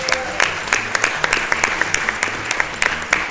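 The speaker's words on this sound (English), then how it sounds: "So can I get a round of applause for these guys?" An audience applauds an indie sound studio from Vancouver, Canada during a charity games marathon, with dense, loud, sustained clapping and a steady rhythmic clap standing out near the front.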